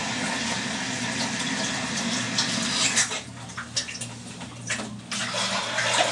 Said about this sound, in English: This is just a water rinse. No cleaners or anything in with it.